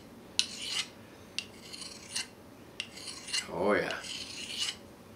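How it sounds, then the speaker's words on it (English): Knife blade drawn across a fine sharpening stone to take the burr off a factory edge: several separate rasping strokes, close and fairly loud, and a short spoken remark near the end. "Get that burr off the factory edge."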